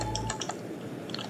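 A computer keyboard is typed on in a quiet room, with a handful of soft, quick key clicks spread over a second or so, close and faint.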